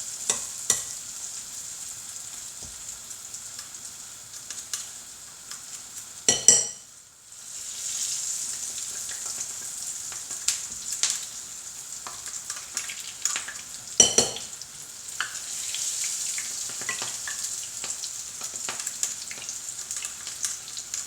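Steady crackling sizzle of falafel frying in hot oil, close and continuous, with a couple of louder clatters as it is stirred.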